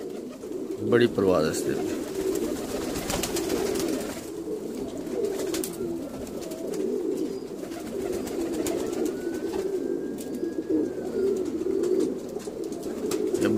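Pigeons coo steadily in a loft, an old bird among them, with soft continuous calls under someone talking in Punjabi nearby.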